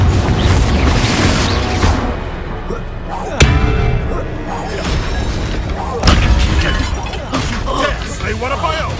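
A fiery Confringo spell blast in Hogwarts Legacy lands amid loud, busy combat. Heavy booming impacts break out at two points, with voices and other battle noise running throughout.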